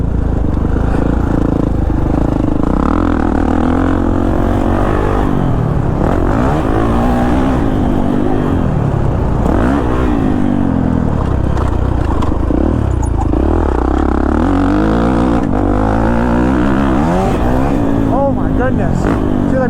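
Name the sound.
Kawasaki KX450 dirt bike engine revving while riding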